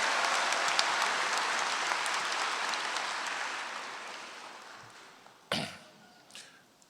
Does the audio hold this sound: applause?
yes